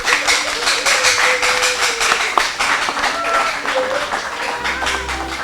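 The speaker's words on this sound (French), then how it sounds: "Je vous demande d'applaudir cette équipe" A school quiz-team audience at a lycée contest applauds steadily, a dense wash of many hands clapping at close range for several seconds.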